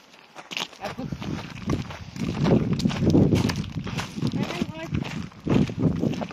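A mare walks freely toward her food on a farm, her hooves clopping unevenly on the ground while people talk nearby throughout.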